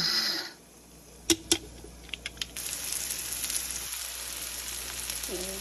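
Cumin powder heats in an air fryer with a soft, steady sizzling hiss, broken early by a few sharp clicks and taps.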